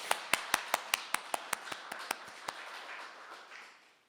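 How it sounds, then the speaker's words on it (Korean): A church congregation at an early-morning service clapping together in a steady, even rhythm. About a dozen crisp claps come in unison, then grow softer and fade out. "우리 좋으신 하나님께 우리 감사의 박수를 먼저 올립니다"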